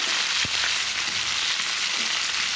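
Chana dal with onions, green chillies and curry leaves frying in hot oil, a steady, close sizzle throughout with a faint stir or clink near the start.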